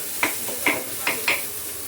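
Oil poured over a sandge vegetable dish in a hot pan, giving a short crackling sizzle with four quick sharp bursts, close and clear, with no talk.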